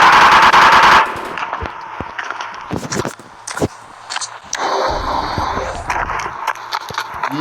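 Loud machine-gun fire in GTA V, opening with a dense sustained burst, then scattered single shots and shorter rattling bursts mixed with footstep-like game sounds.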